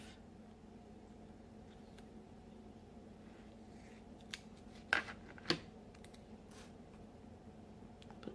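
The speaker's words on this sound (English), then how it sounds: "Open up my scissors and then cut." Scissors snip through tape, cutting it in half during card making: two quick, crisp cuts about half a second apart in an otherwise quiet room.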